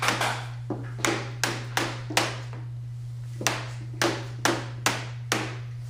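Sharp taps of a flat-faced hard rubber hammer seating trim pieces back into place during insulated glass replacement, about a dozen irregular knocks over a steady low electrical hum.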